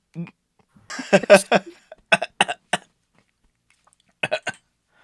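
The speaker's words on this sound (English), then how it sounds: "I coughed up a bunch of water" Several short, harsh coughs from someone coughing up water, in quick bursts separated by silence, close to the microphone, with a pause before a final pair.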